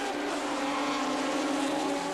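Race cars in a South African production car series, including a Golf GTI and Castrol BMWs, stream past on the Durban circuit as one continuous, loud engine roar with no let-up.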